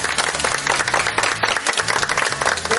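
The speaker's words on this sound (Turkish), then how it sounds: "Alkışlıyoruz." Studio audience applauding the Yılmaz family on a Turkish TV game show, loud, close clapping with a lively uneven rhythm sustained for a few seconds, and no talking over it.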